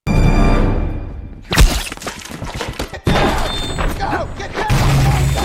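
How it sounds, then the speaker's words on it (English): Gunshots ring out in a tense movie scene: a loud sharp crack, then a second abrupt burst mixed with crashing, thudding noise. "At the same time, gunshots are heard, and one of the bullets hits Yuri's hand."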